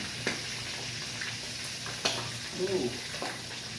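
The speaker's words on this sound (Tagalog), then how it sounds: "Medyo malayo tayo kalayas kasi tumatalsik yung mantika niya" Hot oil spattering and sizzling as a pork chop fries in a pan, a steady crackling hiss with a few sharper pops, fairly close and with no talking.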